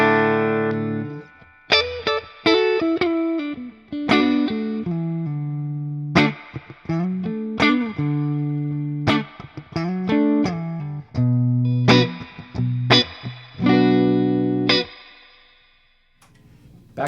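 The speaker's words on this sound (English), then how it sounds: "Now let's hear the Princeton." Electric guitar played through a Fender Princeton amp routed via a Fryette ZMACS amp selector, with bursts of chords and riffs separated by short pauses, loud and close with no talking.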